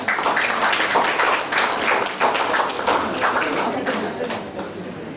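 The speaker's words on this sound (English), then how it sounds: "Can we have a round of applause, please?" Audience applause at an Independence Day celebration stage event, a dense crowd clapping steadily for about five seconds, close and fairly loud, with no talk over it.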